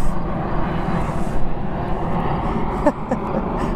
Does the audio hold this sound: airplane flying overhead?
yes